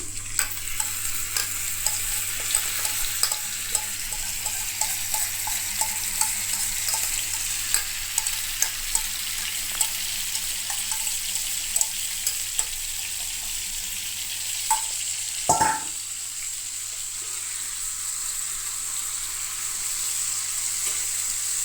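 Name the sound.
marinated paneer frying and being stirred in a pan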